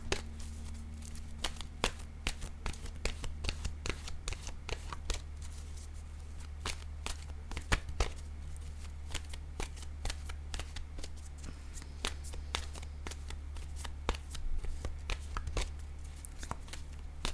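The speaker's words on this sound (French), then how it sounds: "Je vais piger une carte de mon oracle de l'âme intuitive pour voir si on pourrait conseiller quelque chose." Oracle cards are shuffled by hand in a long, continuous run of crisp riffling snaps and flutters, close and fairly quiet against a low steady hum, with no talking.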